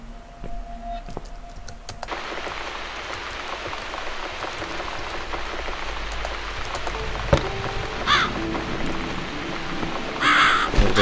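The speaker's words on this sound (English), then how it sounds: "Crows don't like cats" Crows caw in the video game The Cat Lady. Rain patters steadily throughout, with a few sharp calls and clicks near the end, and nobody speaks.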